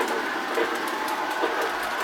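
A Lionel Union Pacific LionChief Hudson model train pulling Williams cars runs along its track with a continuous whirring rattle and faint rhythmic clicks, steady and close.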